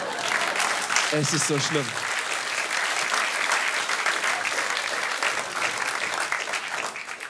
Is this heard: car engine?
no